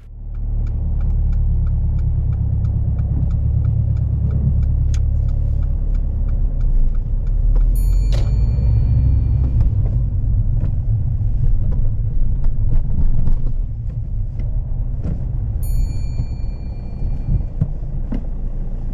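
Car on a driving lesson mock test, moving uphill, with a steady low engine and road rumble throughout and a few faint high tones and clicks from inside the cabin.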